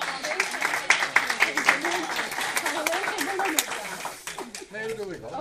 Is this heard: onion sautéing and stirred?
no